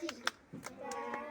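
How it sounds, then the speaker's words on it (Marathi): Children in a classroom clap for a classmate in a sparse, patterned rhythm, a handful of sharp separate hand claps spaced out over a second or so, with faint young voices underneath. "परत एकदा फॅन्टॅस्टिक टाळी वाजवा बरं प्रीतमसाठी"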